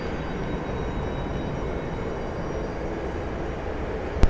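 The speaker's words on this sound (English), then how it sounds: "In the distance, I can hear a Max 8 spooling up." Distant Boeing 737 Max 8 jet engines spooling up at Cleveland Hopkins airport, a steady broad roar that holds level throughout, with a brief sharp click at the very end.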